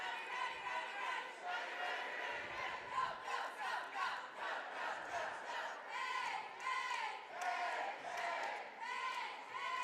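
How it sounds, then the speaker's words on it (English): Cheerleaders at a high school boys basketball game chant a rhythmic, repeated cheer in unison, loud and close, with crowd noise and shouting throughout. "Their infamous hey, hey, rowdy, rowdy, go, go cheer."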